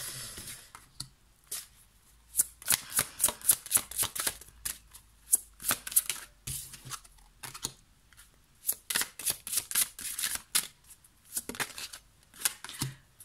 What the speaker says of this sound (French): Je prends 3 cartes pour chacune des pierres.